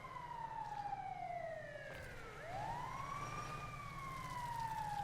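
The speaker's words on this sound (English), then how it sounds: "There's the ambulance." An ambulance siren in the FiveM emergency response game wails in long rising and falling sweeps over a low engine rumble, faint and steady, with no voices.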